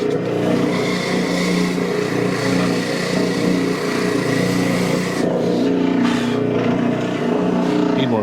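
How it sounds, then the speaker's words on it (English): A spindle sander running for a small step stool build, with a loud, steady motor drone and whine throughout, plus a few scraping bursts as wood is pressed against it. "this is called a spindle sander."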